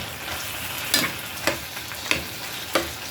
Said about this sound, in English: Now I'm just going to cook it down.